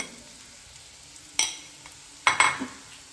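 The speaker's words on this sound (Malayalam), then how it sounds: "ഇനി നമ്മൾ ആ വെളിച്ചെണ്ണയിലേക്ക് തന്നെ നമ്മൾ എടുത്തു വെച്ച തേങ്ങയാണ് നമ്മൾ ഫ്രൈ ചെയ്തെടുക്കുന്നത്" Grated coconut frying in coconut oil while preparing a coconut-fried aavoli (pomfret) dish: a quiet low sizzle with a couple of sharper bursts of stirring and spatula scrapes near the middle and end, no talk.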